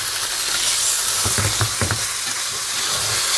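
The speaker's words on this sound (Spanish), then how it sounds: "vamos removiendo hasta que se selle bien también el pollo" Chicken sears in a hot pan as it is stirred, giving a steady close sizzle and frying hiss with a few soft stirring scrapes in the middle, without any talking.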